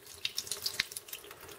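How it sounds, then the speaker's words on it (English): Green rinsing water drains from a container that held two coins, giving a splashing, trickling pour with scattered bright drips and small plops over about a second and a half, close by and with no voices. "Pour this liquid away"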